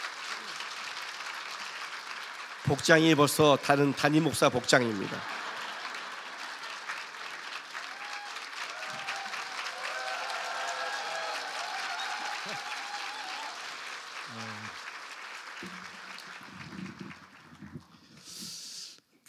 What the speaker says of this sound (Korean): 우리 황시원 목사 우리 박수로 좀 환영하겠습니다